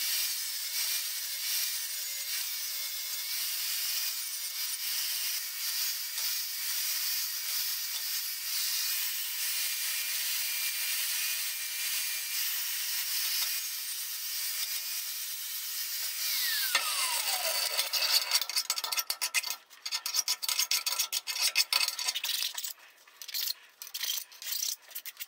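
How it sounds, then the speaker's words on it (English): A power tool deburrs and cleans a round metal rail down to bare shiny metal, a steady high whine for about sixteen seconds, then rougher, choppy grinding and scraping bursts with brief gaps, loud and close. "So I'm going to clean these all up and deburr them and get them ready to weld on."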